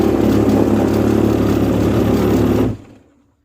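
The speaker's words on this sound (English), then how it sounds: "So that's the shaker motor done, installed, and it works." A shaker motor in a virtual pinball cabinet runs with a loud, steady low rumbling buzz for a few seconds, then cuts off abruptly and winds down to silence.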